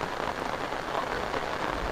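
Steady rain falls over an open, empty field in rural Bangladesh, a dense even hiss of drops holding constant throughout with no distinct splashes standing out and no voices.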